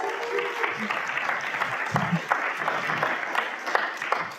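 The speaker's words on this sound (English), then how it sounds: "Can we get applause for that?" An audience at a poetry anthology launch breaks into warm, steady applause, a crowd of hands clapping together nearby while a voice speaks over it.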